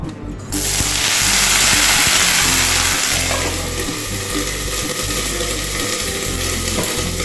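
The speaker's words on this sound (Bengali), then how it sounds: "তেল গরম হয়ে গেছে, এবার এতে আমি দিয়ে দিচ্ছি সবজি।" Vegetables such as pointed gourd, pumpkin and cauliflower hit hot mustard oil with a loud, steady sizzle and spatter that holds without pause, brief clatter at the start.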